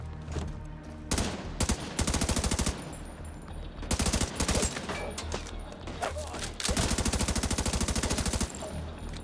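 Rapid automatic gunfire in Tom Clancy's The Division 2, loud bursts of machine-gun fire that start and stop repeatedly, with shorter single shots and impacts between the sustained volleys.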